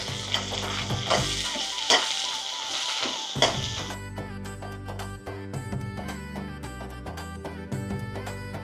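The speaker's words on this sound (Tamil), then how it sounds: "நாங்கள் இந்த நல்லெண்ணெயிலே தாளித்து கொள்கிறோம்" Spices crackle and sizzle sharply in hot sesame oil, with scattered pops and stirring taps over a steady frying hiss; no talking.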